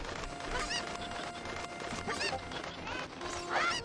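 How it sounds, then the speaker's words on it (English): Cucco chickens in the video game The Legend of Zelda: Ocarina of Time cluck and squawk in repeated sharp bursts over steady game music, loud and busy throughout. "wondering why Engineer is doing chickens in 3 minutes"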